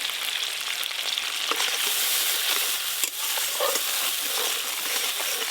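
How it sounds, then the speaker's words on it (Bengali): A mustard and dried chili paste frying in oil, a continuous close sizzle with occasional stirring scrapes, steady and loud with no voices. "এই মশলাটা কষতে সময় লাগে না, ভালো করে কষানো হয়ে গেছে, তেলও ছেড়ে গেছে"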